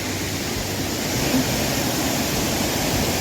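Steady broadband rush of falling water, continuous and dense without pause, from Shifen Waterfall in Taiwan heard from nearby.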